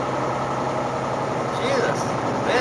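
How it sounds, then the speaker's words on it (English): The engine of a heavy haul truck runs at a steady, loud, deep drone, with someone talking over it. "how do you guys like the sound of the engine?"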